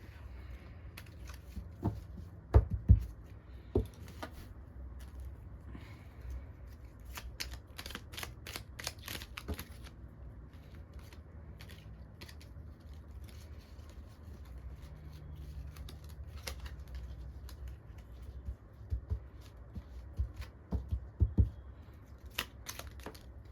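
Tarot cards shuffled close by, a steady papery riffling and flicking with sharper slaps now and then, continuing without talk.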